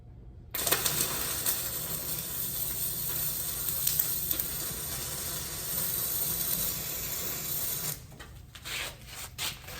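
Flux-core arc welding at 27 volts with wire feeding at 500 inches per minute, too fast: a steady loud crackling sizzle with sharp pops for about seven seconds, then it stops, leaving a few faint clicks.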